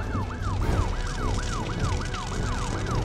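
Fire engine sirens wail in a children's cartoon about vehicles, a loud, rapidly rising and falling electronic siren repeating in quick regular sweeps over a constant rumble of engine and traffic noise.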